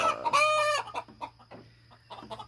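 Chickens on a homestead cluck close by, with one loud drawn-out squawk early on followed by softer scattered clucks and quiet rustling.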